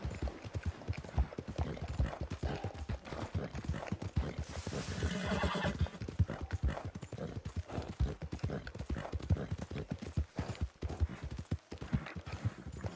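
A fast horse in Red Dead Redemption 2 gallops with continuous rapid clip-clopping hoofbeats and a loud whinny partway through, steady and close throughout with no speech.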